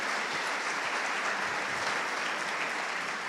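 Conference audience at a summit stage event applauds, a dense, continuous wash of clapping hands from a large crowd filling the whole stretch at moderate level.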